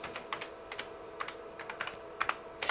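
Keys clatter in irregular bursts on the keyboard of a 1986 OPUS PCII V20-based PC XT computer, separate clicks spaced apart, close and fairly quiet, with no talking.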